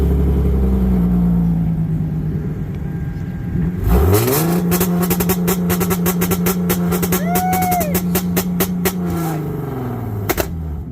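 A custom 2016 Hyundai Genesis idles with a low burble, then its exhaust barks into a sharp rev and holds a loud, raspy drone peppered with crackles and pops before settling back down, close by.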